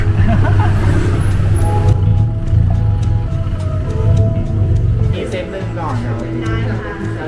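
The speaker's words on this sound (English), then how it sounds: "First time riding a tuk-tuk with pipe and Erk." A tuk-tuk ride through Thailand traffic, with a loud, steady engine drone and the rumble of passing vehicles close by. People talk over the noise throughout.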